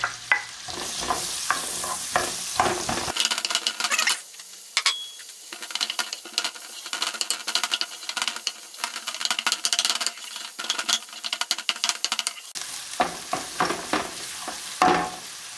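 Chopped onions sizzle in melted butter in a pan while a wooden spoon scrapes and knocks through them in repeated strokes, the crackling frying bed continuous beneath the close, rhythmic stirring clatter.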